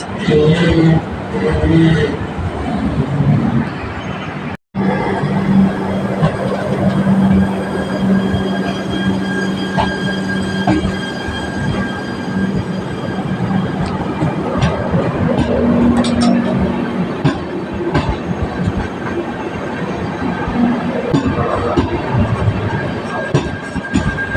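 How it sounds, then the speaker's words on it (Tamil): An Amrit Bharat Express train arrives at Kuzhithurai railway station, loud and close, with rumbling wagons, a sustained wheel squeal and clattering over the rails; a voice talks over it. "நம்ம குளித்தர ரயில்வே ஸ்டேஷன் நம்ம ட்ரெயின் இப்போ வந்து ரீச் பண்ணிட்டு இருக்குங்க"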